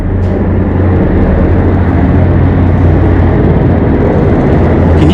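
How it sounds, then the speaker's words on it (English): A loud, continuous low rumbling roar fills the space, steady and heavy like a big helicopter passing close overhead. "I don't know if you can hear that, but there's a helicopter right."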